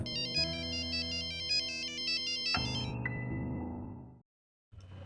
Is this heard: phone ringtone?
yes